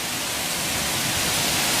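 Heavy rain pours steadily as a thunderstorm in Iowa sets in, a dense, even hiss close by that holds constant from start to finish with no voices.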